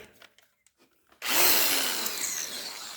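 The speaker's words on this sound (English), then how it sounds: "I'm going to drill a bunch of holes." Near silence with a few faint clicks, then a power drill suddenly starts and bores steadily into material, a loud whining grind that continues to the end.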